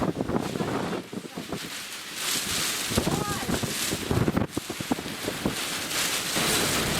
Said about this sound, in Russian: Шквальный ветер. Ой-ой-ой, какой ветер.